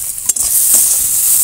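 Washed moong dal frying and being stirred in a hot pan, a loud bright sizzle with a couple of quick scraping strokes, brief and unbroken, no talking.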